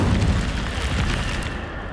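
A fire spell cast in Hogwarts Legacy, a loud, dense roaring burst of flame with heavy low rumble that holds steady for about two seconds, close and full, with no talking over it.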